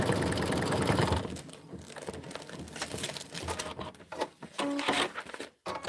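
An embroidery sewing machine stitches a lemon-themed design, its busy rapid needle chatter running steadily and fairly loud, with a brief pause near the end.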